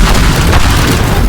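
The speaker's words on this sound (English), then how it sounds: "If you left or right click, you create an explosion of fire." Fiery explosion set off in the video game Teardown, a dense rumbling boom with crackling burst that fills the whole clip loudly and steadily, with no talking.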